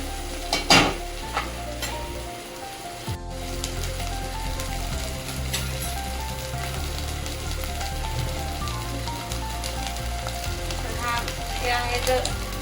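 Chicken curry base frying hard over high heat in a pan, a steady loud sizzle with occasional stirring clinks and scrapes running throughout, no voices.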